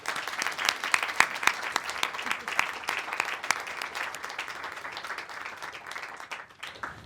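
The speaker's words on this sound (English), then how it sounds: "Please give them a round of applause." An audience at a Wales Parliament evening event applauds: dense, steady clapping from a crowd that holds for several seconds before thinning slightly toward the end.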